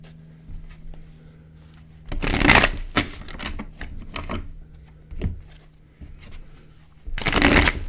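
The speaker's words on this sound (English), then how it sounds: "Get a good shuffle on both of our decks." A tarot card deck gets shuffled in quick riffling bursts, two louder rushes near the start and at the end, with softer card handling and taps in between in a quiet room.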